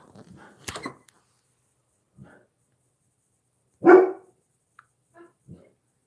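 A dog gives a single loud bark indoors, with a few quieter whimpers and scattered soft noises around it, otherwise mostly quiet.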